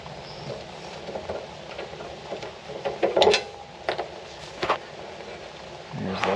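A wrench clicks and clanks while removing the nuts from a CAT BRX418 industrial brush cutter blade, giving irregular ratcheting and metal knocks, some sharper than others, close to the mic.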